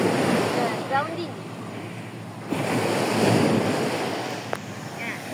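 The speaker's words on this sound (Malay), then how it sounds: "Kita masih lagi melayan ombak pantai." Surf breaking on the beach at Port Dickson, a steady wash of waves with wind buffeting the microphone, swelling louder midway, with brief voices in the background.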